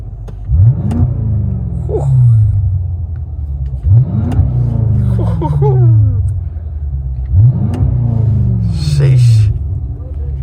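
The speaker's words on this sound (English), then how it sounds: "Do you mind just revving it from here?" A BMW F90 M5 Competition engine is revved three times from standstill, each sharp rise to a roaring peak falling back to a deep, rumbling idle, loud and close.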